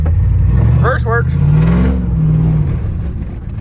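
Chrysler 300 engine, being fitted with a turbo LS swap, idling and revving in a low rumbling tone, loud and close, with a brief burst of talk over it partway through.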